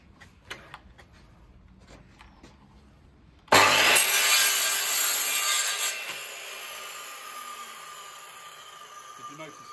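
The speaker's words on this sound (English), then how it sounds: "So we're just going to trim this end off" A hand saw trims the end off a wooden piece during carpentry joinery work before chamfering: after some faint tapping, steady, loud rasping strokes start abruptly and continue close by, gradually easing off.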